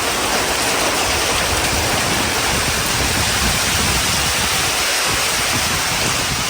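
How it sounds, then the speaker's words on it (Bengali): Stormy rain falls outside during a power cut in hot weather, making a dense, steady, uniform rushing hiss that fills the whole stretch without letup. "একটু ঝড়ো বৃষ্টি হচ্ছে ঝড়ো বৃষ্টির মতো হচ্ছে"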